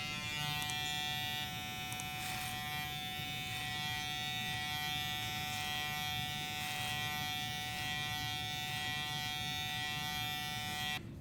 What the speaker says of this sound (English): we're going to turn the clipper upside down, and we're going to be coming down like that on both sides